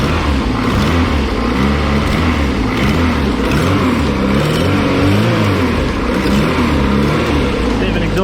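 A 500 BHP classic Mini engine fires up and revs hard, a loud, continuous rough roar with rising and falling throttle blips and a slight exhaust leak, filling the whole stretch up close.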